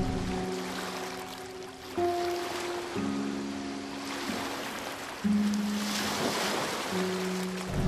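Sea waves wash and surge continuously, with fuller swells breaking every couple of seconds, and a steady low tonal hum runs underneath.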